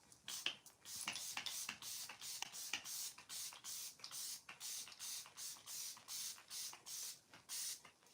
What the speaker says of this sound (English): I'm gonna finish up with the L'Oreal Infallible Mattifying Setting Spray